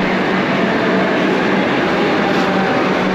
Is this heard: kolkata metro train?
yes